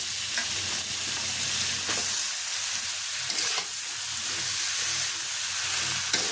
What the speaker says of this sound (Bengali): চিংড়ি মাছগুলি কষানো হয়ে গেলে আমি এখন পুঁই শাকগুলি দিয়ে দিব।